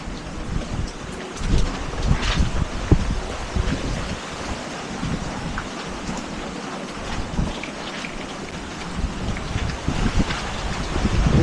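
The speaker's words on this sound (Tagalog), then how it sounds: "pero malakas ang hangin." Strong typhoon wind gusting steadily across a microphone outdoors, a dense roaring rush with buffeting surges and loose objects rattling, with no rain to speak of.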